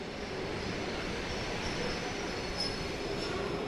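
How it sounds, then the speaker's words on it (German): A company-owned S-Bahn commuter train carrying workers in Siberia rumbles along as a steady, dense rolling roar with faint high wheel squeal, heard alone. "Den Transport der Arbeiter besorgt ein werkseigener S-Bahn-Zug."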